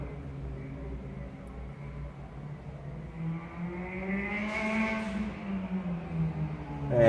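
A Mullock U2 hillclimb race car with a Suzuki Hayabusa motorcycle engine revs at the start line, its high engine note climbing and swelling steadily louder toward the end.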